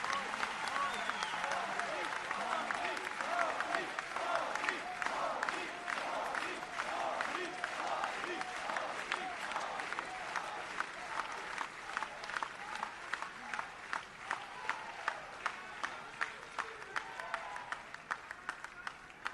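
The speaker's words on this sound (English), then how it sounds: "Let's give him another big round of applause" A large audience at a business and community event in Singapore applauds the Prime Minister of India at length, steady dense clapping that turns into more rhythmic, distinct claps near the end.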